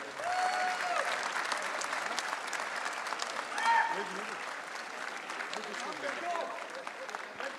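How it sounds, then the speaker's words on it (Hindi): Sustained audience applause at a Pakistan literature festival poetry gathering, a steady dense wash of many hands clapping throughout, with a brief swell midway and faint voices underneath. "यार तालियां शालियां बजाओ, थक गए।"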